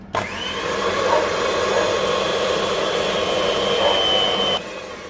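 An ice cream machine churns the mixture with a loud, steady motor whir and a constant high whine, starting abruptly and running evenly for several seconds before easing off.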